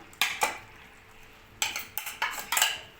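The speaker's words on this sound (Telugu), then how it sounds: "పచ్చి కొబ్బరి, కొంచెం కొత్తిమీర బాగా కలుపుకొని" Fresh grated coconut and coriander being stirred into ridge gourd curry in a pan, with a spoon scraping and clinking against the metal in short bursts, one pair of strokes then a quicker run of four or five.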